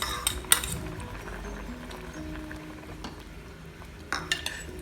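Cooked toor dal goes into a pot of wilted manathakkali greens and gets stirred, with a couple of sharp metal clinks of a spoon on the pot and quiet wet sloshing in between.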